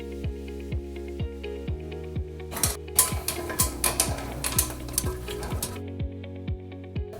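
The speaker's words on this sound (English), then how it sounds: "they have this handy little tool to tighten it with" Small hand tool tightening the nut on a toilet bolt, repeated metallic ratcheting clicks in a steady rhythm, joined midway by a burst of scraping and rattling, close over a humming background.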